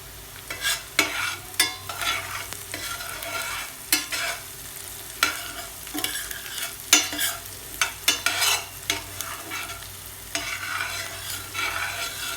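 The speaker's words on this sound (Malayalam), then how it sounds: "ഇനി ഇത് മിക്സ് ചെയ്ത് കൊടുക്കാം" Tapioca being stirred with salt in a pan for a Kerala-style kappa upma: repeated scraping strokes of a spoon against the pan, irregular and close, over a faint low sizzle, with no voices.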